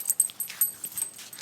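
A puppy whines and whimpers in a series of short, high, close whimpers with no talking.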